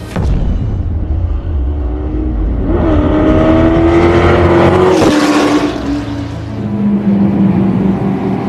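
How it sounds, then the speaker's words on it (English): A Ford GT40 that raced at Le Mans in 1966 roars up close, its engine revving continuously with rising pitch as it accelerates, loud and steady with no voices over it. "this is an actual GT40 that competed at Le Mans in 1966"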